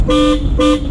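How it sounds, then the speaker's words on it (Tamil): Two short, loud car horn blasts in quick succession, close by, with a steady engine rumble underneath. "ஹார்ன் அடிச்சுக்குங்க."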